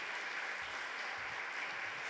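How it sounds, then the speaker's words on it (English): Steady applause from an audience, a continuous wash of clapping that holds at an even level throughout without any voices. "Round of applause, thank you."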